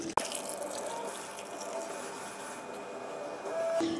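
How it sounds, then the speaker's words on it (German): Hot cream poured over chopped chocolate while making a rainbow cake, a steady close liquid stream running continuously, starting with a small knock and ending with a faint clink. "dann nehmt ihr euch die heiße Sahne und gießt sie über die Schokolade"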